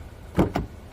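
Rear door of a Mark 3 Toyota Prius being opened, two short close mechanical clunks in quick succession, the second slightly softer, with no talking.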